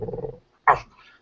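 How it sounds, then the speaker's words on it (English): Dogs huddling together in piles to keep warm at night, one low grumbling growl followed after a brief pause by a sharp, loud bark-like snarl, close by with no talk. "the dogs are all getting in their piles and stuff, getting close to stay warm"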